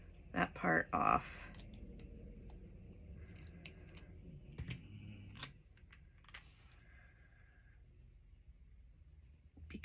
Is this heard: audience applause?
no